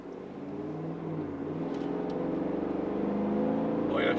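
A Chevy Tahoe with a 5.3L V8 and a Corsa cat-back dual exhaust drives along, heard from inside the cabin as a steady low rumble that slowly swells in loudness, with no talk.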